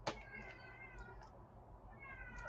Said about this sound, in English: The cat's talking in the background.